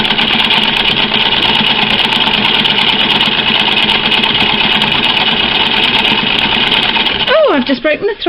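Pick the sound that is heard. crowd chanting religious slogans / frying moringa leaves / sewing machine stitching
sewing machine stitching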